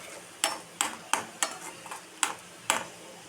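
Carrot fry with chili powder being stirred in a pan, six sharp, evenly spaced scrapes and knocks of the spoon against the pan at close range with a faint background hiss.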